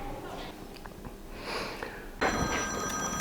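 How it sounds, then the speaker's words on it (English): An outgoing phone call rings out from a workshop: quiet room noise at first, then steady ringing tones cut in partway through and carry on to the end. "So I'm just going to make a phone call and get somebody on the job."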